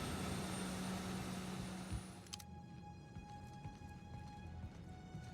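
Spaceship engine in the video game The Outer Worlds starting up, a loud broadband roar that suddenly cuts to a steady, lower mechanical hum with sustained tonal whines, running alone without talk.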